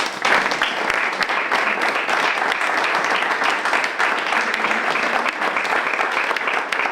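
A large audience applauds steadily, a dense, even wash of clapping that holds at full strength for several seconds.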